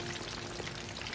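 Chicken wings for crispy garlic wings frying in oil at about 160 °C, a dense, steady crackling hiss that fills the short stretch with no pauses and no talk over it.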